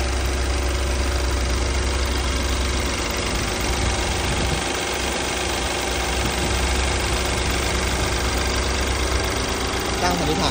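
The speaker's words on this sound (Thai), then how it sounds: "ให้ฟังเสียงเครื่องรถลูกค้านะครับตัว F10 นะฮะคันสีดำนะครับถึงเครื่องตอนเช้านะครับ" Black BMW 528i F10 engine idling on a cold morning start, a loud, constant mechanical drone with a faint irregular knock running steadily through.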